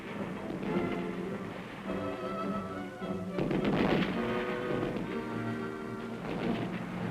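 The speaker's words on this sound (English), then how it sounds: "Due to machine gun and mortar fire from infiltrated enemy troops, the convoy halts." Machine gun and mortar fire on a halted military convoy during a 1951 communist spring offensive: a dense, continuous rumble of distant gunfire and blasts rolling on without a break.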